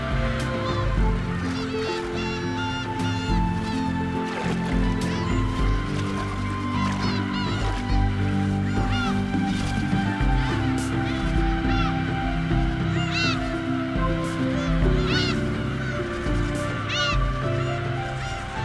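Young black-tailed gulls under three years old crowd a harbour in early spring, their harsh overlapping calls and honking cries rising and falling continuously from a large flock close by.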